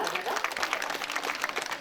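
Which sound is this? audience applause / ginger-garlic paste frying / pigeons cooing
audience applause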